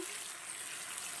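Water pours into a pan of spiced, sautéed vegetables as a brief, faint, steady rushing hiss with no talk over it.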